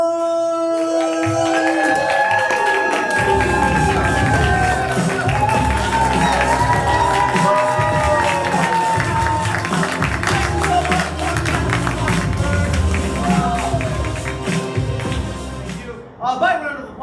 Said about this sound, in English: Let's give it up for your host, John!